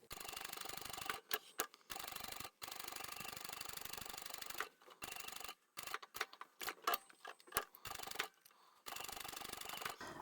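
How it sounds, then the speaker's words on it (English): A sewing machine stitches around the curve of a fabric wallet, running in quick mechanical bursts separated by brief pauses, close and fairly quiet. "And keep sewing around the curve and down the other side."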